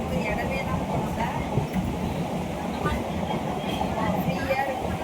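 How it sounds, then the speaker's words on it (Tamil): A train rumbles past at close range, a steady loud clatter of wheels and cars with no break, heard on a trip near Besant Nagar beach. "ட்ரெயின் வந்து பாதியிலே நின்றுச்சு."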